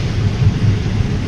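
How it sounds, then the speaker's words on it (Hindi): Heavy rain pours steadily during a drive on a mountain road where landslides have dropped stones onto the tarmac, a loud, dense, continuous wash with a deep low rumble beneath. "इतनी गंदी बारिश"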